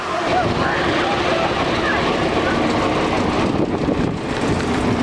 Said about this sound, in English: Just waiting for the trolley to come